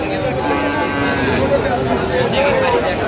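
Cattle at a busy rural livestock market for Friesian and crossbred bull calves give low moos amid loud crowd chatter and nearby voices.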